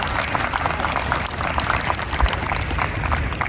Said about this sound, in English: I want you young people to give your parents a round of applause